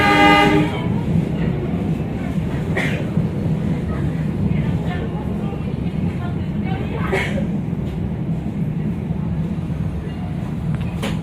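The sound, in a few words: Lokal Bandung Raya local train entering Cimindi station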